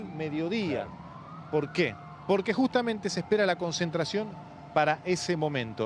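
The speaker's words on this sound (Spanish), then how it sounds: "Y si escuchan de fondo... Sí, sirenas." Police sirens wail at a distance, rising and falling steadily behind a reporter talking throughout, as more police units arrive near the Congress building ahead of a planned rally.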